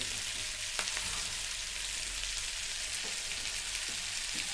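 Chicken fries in a pan with a teaspoon of soy sauce for dry chilli chicken, giving a steady, even sizzle that stays close and constant throughout, with a few faint clicks and no talking.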